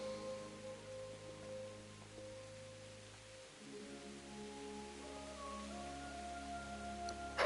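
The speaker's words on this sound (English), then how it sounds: "It's the rain, dude" Steady soft hiss of rain in the medieval video game Kingdom Come: Deliverance, a continuous wash with faint low tones and music underneath, holding level before a small bump at the end.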